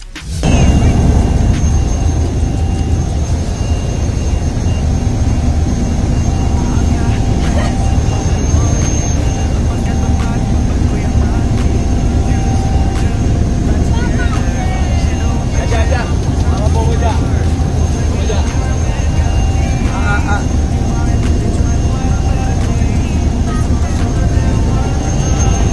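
Steady, loud drone of a helicopter in flight, heard from inside the cabin as a continuous rumble with a whine above it, while a voice speaks over it.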